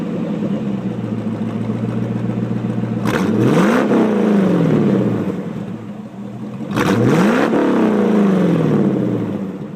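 A Corvette C4 with mufflers deleted for a straight-pipe exhaust revs hard twice, each blip sweeping sharply up from a rumbling idle and falling back, loud and close.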